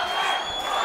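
Boxing crowd in Tijuana cheering and yelling at a fight, a brief, loud, dense burst of massed voices.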